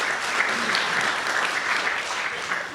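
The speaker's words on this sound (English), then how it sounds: "Please give them a round of applause." Crowd applause at a university speaker series event, with dense, continuous clapping from a large audience sustained for about three seconds at an even level.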